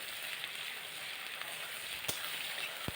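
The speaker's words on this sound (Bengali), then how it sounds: "এই যে আলু ভেজে রেখেছি, একটু নেড়ে চেড়ে নেব।" Fried potatoes and chopped onion are stirred in hot oil with whole garam masala, dried red chilli and bay leaf. A steady, fairly quiet sizzle runs throughout, broken by a couple of sharp utensil clicks near the end, with no talking.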